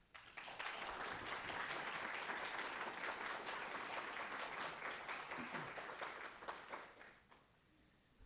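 An audience at an art lecture on Fra Angelico applauds steadily to welcome the speaker, a dense sustained clapping from a large crowd that tapers off after about seven seconds.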